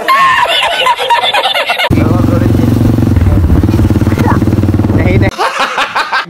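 An XR motorcycle engine runs loud and near for several seconds with a steady, throbbing idle, while people talk and laugh before and after it.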